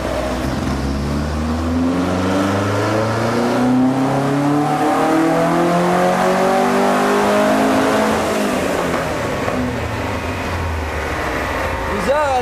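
A Westfield kit car engine, fitted with programmable electronic ignition, revs hard up toward its limiter in repeated rising sweeps, loud and close, with a voice speaking underneath.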